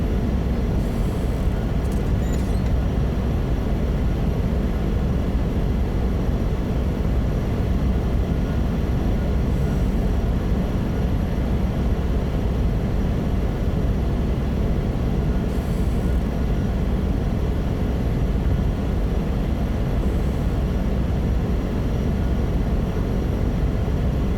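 A Cessna 208B Caravan turboprop runs steadily in Microsoft Flight Simulator 2024, giving a constant loud engine drone with propeller hum and a faint high whine. It sounds unchanging throughout, with no speech.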